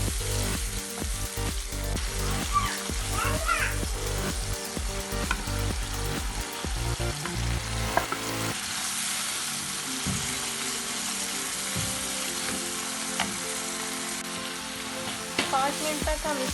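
Minced fish keema frying in a pan over a medium flame, a steady broad sizzle with occasional stirring scrapes, close and continuous with no talking.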